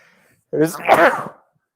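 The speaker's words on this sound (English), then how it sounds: "I feel like I'm about to sneeze." A single close sneeze bursts out after a short silence, breathy and brief.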